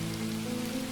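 Steady rain falls throughout as a sound effect in a narrated story, a dense, even hiss of drops with a low constant hum beneath, moderately loud and without any voices.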